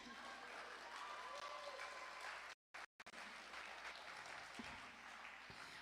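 A small audience at a live performance claps steadily, a dense, even patter that carries on for several seconds and breaks off briefly midway before resuming, moderately quiet and heard from within the room.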